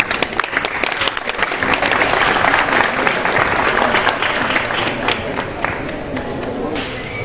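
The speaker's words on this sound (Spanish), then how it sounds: "pediros un aplauso para ellos" A crowd at a running talk in a Decathlon store in Córdoba claps steadily for the athletes, a loud sustained patter with a few sharp individual claps and faint voices underneath.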